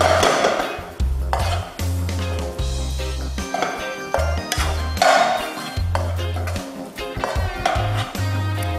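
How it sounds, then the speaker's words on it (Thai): Chicken breast stir-fried in a pan for a dry Thai khua kling: a spatula scrapes and clanks steadily against the metal pan, with a low rhythmic hum throughout. "แล้วก็พยายามผัดนะคะ ให้เข้ากันเลยค่ะ"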